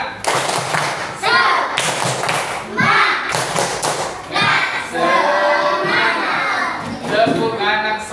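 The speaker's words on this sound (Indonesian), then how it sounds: "kita tepuk semangat dulu ya semuanya" A group of children in a classroom joins a teacher in a rhythmic 'tepuk semangat' clapping chant, with loud bursts of claps and chanted voices alternating in quick patterns, close and lively.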